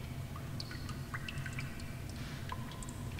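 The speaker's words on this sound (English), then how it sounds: "I just stepped in the water and it started playing the water ambience" Water ambience in the video game Apeirophobia after stepping into water, a quiet low wash with scattered small drips and splashes, steady and faint, no voices.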